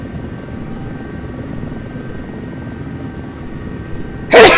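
Wheeled helicopter in a desktop helicopter simulator game, its rotor and engine droning as a steady, even hum throughout, with a sudden louder burst of noise at the very end.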